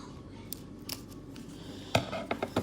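Scissors snipping tape while making a homemade squishy, a few sharp close clicks, one early and a quick cluster near the end, over a quiet room with no talk.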